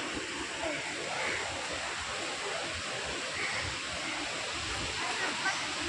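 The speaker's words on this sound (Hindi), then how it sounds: "चलिए आपको झरना दिखा रहे हैं" Vindam Falls waterfall in Mirzapur, Uttar Pradesh, gives off a steady broadband rush of falling water, continuous and fairly faint, as if heard from a short distance.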